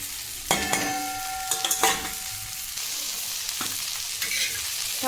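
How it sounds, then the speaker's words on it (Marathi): Chopped okra sizzling steadily in hot oil in a pan for a green-chili okra fasting dish, with a few sharp clinks of stirring near the start and no talk. "तेलात फ्राय करून घ्यायचं आहे याला पण छान असं भेंडी चिरलेली टाकून घ्यायचं आहे"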